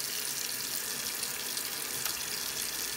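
Tap water runs steadily from a faucet into a sink as hands are rinsed after washing, a continuous broadband hiss with no talk.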